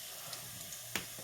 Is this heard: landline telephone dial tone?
no